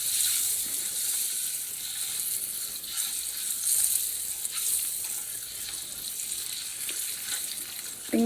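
Egg fries in hot oil in a pan, a steady bright sizzle with soft stirring scrapes running throughout, close and continuous with no talking.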